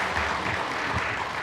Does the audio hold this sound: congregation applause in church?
yes